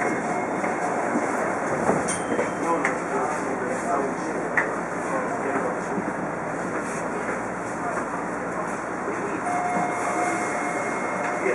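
A TTC Hawker-Siddeley H5 subway train arrives at Yorkdale station, with a continuous rolling rumble and rail noise heard from inside the car, a faint high whine, and an onboard station announcement over it.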